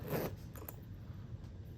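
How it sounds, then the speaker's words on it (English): A short, quiet zipper pull on a leather Rick Owens Jumbo Laced Geobasket sneaker, a brief raspy scrape near the start followed by faint ticking clicks, close by and alone. "So, of course, you got your zipper right here."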